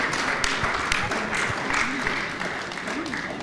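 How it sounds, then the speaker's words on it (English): Audience applause at a conference session on financing women-led businesses: a steady wash of clapping sustained throughout, with faint voices mixed beneath it. "can we give a round of applause?"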